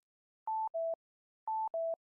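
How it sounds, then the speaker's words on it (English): Synthesized sine tones at 880 Hz and 660 Hz, a higher beep followed immediately by a lower one, the pair repeating twice in a clean, evenly spaced pattern over silence. "now we're hearing a mixture of 880 and 660 Hz sine tones."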